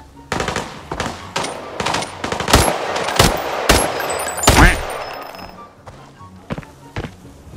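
Bursts of M249 light machine gun fire in a video game, sharp loud cracks in rapid clusters and single shots over several seconds, with faint game ambience between.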